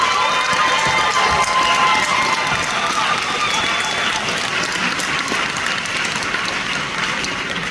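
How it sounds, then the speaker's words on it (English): Sustained applause from a large crowd at a keynote speech, dense and steady, with some cheering mixed in throughout. "let's give them a round of applause"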